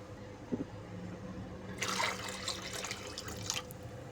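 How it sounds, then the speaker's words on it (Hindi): Water splashes into a pot of washed dal from about the midpoint, a bright, bubbling pour lasting under two seconds. A quiet kitchen hum and a small knock come before it. "अब इसके अंदर हमने खुला पानी ऐड कर देना है।"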